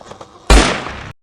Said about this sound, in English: Oh my god, I just heard a gunshot